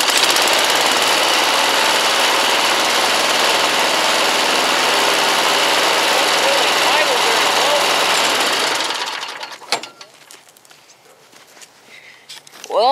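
An old lawnmower engine runs with a loud, steady, rattling drone for about eight seconds, then cuts off, leaving quiet handling noises and a few faint knocks.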